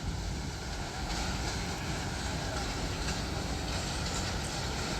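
The Awam Express 14DN, a crowded passenger train hauled by a locomotive near Lahore Railway Station, rolls past in a steady broad roar with faint rhythmic rail clatter throughout.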